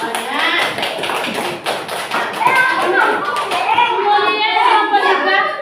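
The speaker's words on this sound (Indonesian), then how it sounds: "Tepuk tangan semuanya." Children in a classroom clap their hands together, a burst of quick irregular claps close by, with young voices and an adult talking over and after the clapping.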